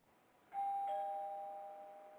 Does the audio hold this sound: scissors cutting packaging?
no